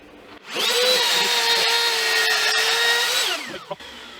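A wood router fitted with a bearing bit spins up beside a guitar body workpiece. It gives a loud, steady high whine for about three seconds, then winds down, followed by a small clack.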